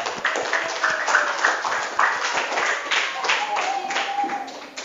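Students clapping in a school classroom for class 7A, a few seconds of moderately loud, uneven clapping with a voice heard over it.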